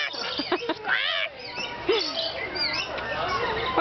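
Birds, including a duck, squawk and chatter loudly and close by during a feeding at a zoo, with overlapping calls throughout.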